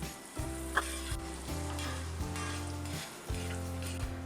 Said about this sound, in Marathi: आता मस्तपैकी कांद्यामध्ये याला लालसर होईपर्यंत आपण परतून घेऊया.